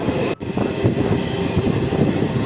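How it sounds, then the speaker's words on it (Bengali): The Hazarduari Express, hauled by a WAG-9HC electric locomotive, runs at good speed, its loud, steady rumble and rhythmic clatter heard from on board without pause. "দেখতে পাচ্ছেন আপনারা ভালো স্পিডে ছুটছে আমাদের ট্রেন"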